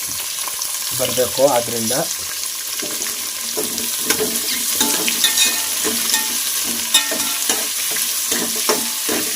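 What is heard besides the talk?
onions frying in a pan for veg pulao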